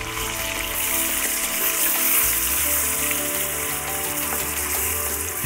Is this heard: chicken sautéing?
yes